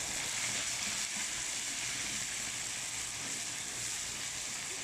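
Onions, red pepper and tomatoes frying in a pan, made into a steady, even sizzle and crackle with no break, close and moderately loud, with no talking over it.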